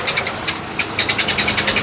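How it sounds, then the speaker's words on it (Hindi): Radiator fan of a Nissan Micra shaking badly, giving a fast, uneven series of rattling knocks over a low engine hum, close by and fairly loud. "इसका रेडिएटर फ़ैन जो है बुरी तरह से वो हिल रहा है"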